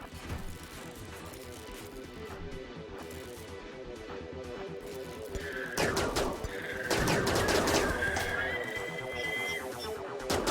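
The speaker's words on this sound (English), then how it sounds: "I don't like getting shot at by Lancers" Gunfire from Lancer mechanoids in RimWorld crackles as a fairly quiet, steady run of rapid shots that builds in the second half, joined by sharp metallic impact bursts and high ringing tones.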